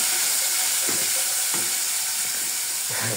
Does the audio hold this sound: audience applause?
no